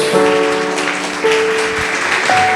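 Church congregation clapping for Jesus at a Sunday service, a steady broadband patter of many hands with a sustained tone or hum running beneath it, moderately loud throughout.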